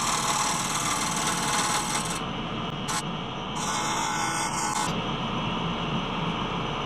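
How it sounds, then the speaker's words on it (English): A bowl gouge used as a shear scraper rasps steadily against a wet cherry bowl spinning on a lathe, a continuous close scraping hiss that drops and shifts as the tool cut changes over a low motor hum. "I continue to use the bowl gouge as a shear scraper to blend the new diameter, the new thickness, with the rest of it."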